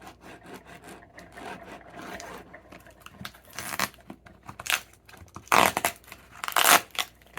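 Close, rough sawing and tearing through many thick layers of packing tape, with scratchy crunching strokes that come in uneven bursts and get louder toward the end.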